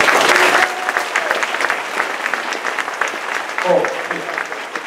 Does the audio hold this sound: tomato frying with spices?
no